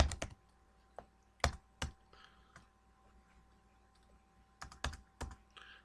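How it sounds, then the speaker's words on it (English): Typing on a computer keyboard, bursts of sharp close key clicks in small clusters separated by pauses, with no talk. "if I start typing, you'll be able to see what happens here"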